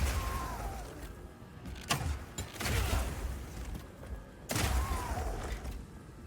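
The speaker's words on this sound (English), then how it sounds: "you can explode any grenades that happen to be on the ground" Grenades lying on the ground blow up in Path of Exile 2 as the Mercenary class sets them off. Two sharp booming blasts come a few seconds apart over a busy game backdrop of thuds and rumble, with no voices.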